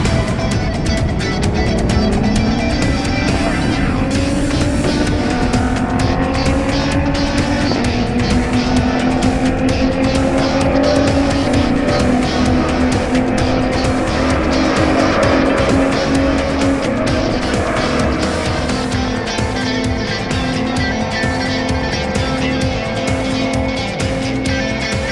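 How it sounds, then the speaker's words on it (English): A Formula 1 race car howls past in a loud, continuous roar, its engine pitch sweeping upward through the gears with tyre squeal mixed in, heard alone without talk during a drag race against an Airbus A320. "a Formula 1 race car will go head-to-head with an Airbus A320, a medium-sized aircraft."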